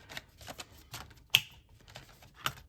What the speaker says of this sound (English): So let's take out my business envelopes.